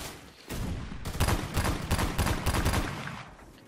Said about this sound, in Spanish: Vamos a probarla y vamos a ver qué tal nos va con el nuevo revólver